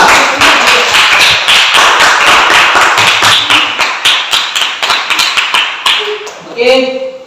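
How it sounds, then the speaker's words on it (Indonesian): Applause for a group of students in a classroom lesson: a burst of many hands clapping in a steady rapid patter, close and loud, tapering toward the end with a few voices rising briefly. "Berikan aplaus untuk teman kita kelompok 5."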